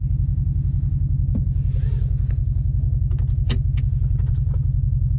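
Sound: Subaru STI engine warming up

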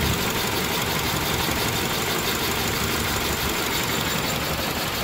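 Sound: misfiring three-cylinder car engine idling with vibration

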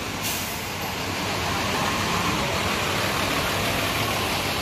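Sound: bus front engine running

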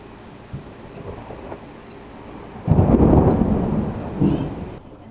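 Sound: thunder during a storm

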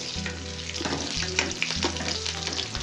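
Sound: onion frying in a pan

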